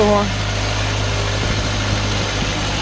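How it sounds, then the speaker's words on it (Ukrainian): Orion RT 404 tractor engine idling steadily during loading, a loud continuous low rumble with vibration and no pauses. "Відвантажуємо Оріона РТ 404"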